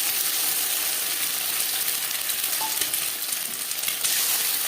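Egg frying with chopped onion in two spoons of hot oil gives a loud, continuous sizzle and crackle, with occasional scraping of a utensil stirring the pan. Nobody speaks.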